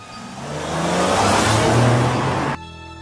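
Cartoon car driven very fast, its engine whirring and building to a loud sustained roar before cutting off abruptly into a brief electronic tone.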